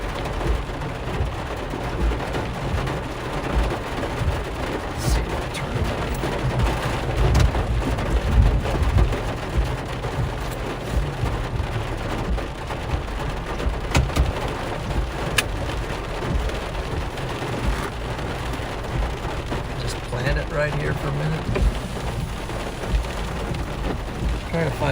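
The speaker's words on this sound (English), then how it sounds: "the rain's not coming in the window" Heavy rain drums steadily on a car during a Nebraska storm chase, with dense broadband patter throughout and low rumbles that suggest thunder, loud and close for the full stretch.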